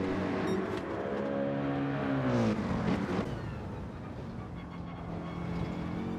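A Mercedes-AMG race car's engine in Gran Turismo 7 on the Yamagiwa circuit, a loud continuous roar that climbs in pitch through the gears with shifts and a brief dip, up close with no talk.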